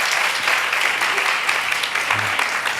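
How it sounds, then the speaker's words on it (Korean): A church congregation of university students breaks into warm, dense applause, sustained clapping filling the room from start to finish with a little speech faintly underneath. "그냥 앞에 보고 박수 한번 쳐주면 좋을 것 같아요."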